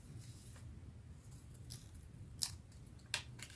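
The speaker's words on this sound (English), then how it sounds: "I don't have that really fine, sharp, small tipped scissors, so I think these will manage" Ordinary scissors, not fine small-tipped ones, snip out small paper stars for a craft project. A few faint, crisp cuts stand out over a low steady background hum, with no talking.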